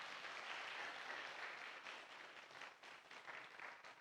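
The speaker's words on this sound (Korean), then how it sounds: "우리 박수로 한번 격려할까요?" A church congregation applauds together in a sanctuary, a steady wash of many hands clapping that fades slightly toward the end.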